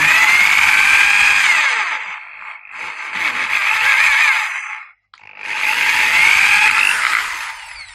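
An electric drill whirs at high speed in two long runs separated by a short pause, loud and close, with a grinding edge as the bit bores through plastic.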